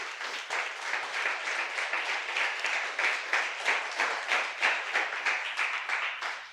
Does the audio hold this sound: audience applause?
yes